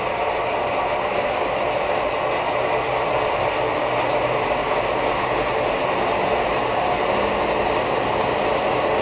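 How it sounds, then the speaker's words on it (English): A Landis surface grinder's spindle runs up to full speed, giving a steady, loud broadband mechanical whir and hiss with no pauses. "You see that's ramping up. It'll stop at 60 hertz, and there is the spindle turning."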